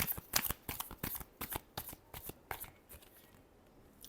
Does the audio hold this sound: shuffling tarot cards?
yes